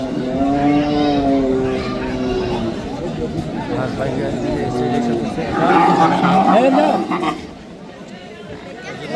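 A cow moos with a low, drawn-out call near the start at a morning cattle, buffalo and goat market in Charshibpur, Bancharampur, Brahmanbaria, while people chatter in the background and another voice rises later.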